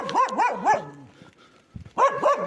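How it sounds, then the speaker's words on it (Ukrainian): Several dogs bark in quick bursts on a street in central Kherson in winter. A run of close barks is followed by a short lull, then another cluster of loud barking. "Все, все, все, не гавкайте, все."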